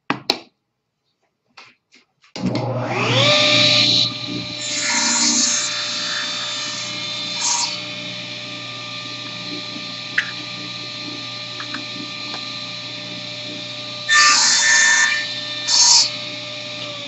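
A power tool cutting wooden pen blank parts for a closed-end rollerball pen in a workshop. A steady whining drone starts after a few soft clicks and runs on with brief louder surges of cutting.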